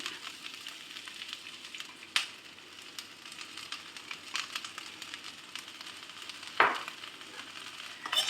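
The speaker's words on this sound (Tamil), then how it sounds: "கொஞ்ச நேரம் இந்த வெங்காயம் வதங்கினதுக்கு அப்புறமா தக்காளி போடுவோம்" Onions sauté and sizzle in hot oil, a soft continuous crackle broken by a couple of sharp scraping stirs of a utensil; no voices.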